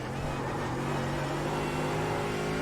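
A racing car engine in a racing simulator game hums steadily and loudly throughout, with a sustained high drone and no pauses or voices.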